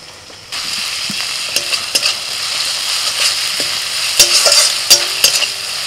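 Ginger-garlic paste fries and is stirred with onions for mutton in a pan, a steady close sizzle broken by scraping strokes and clicks of the spoon, with no talking.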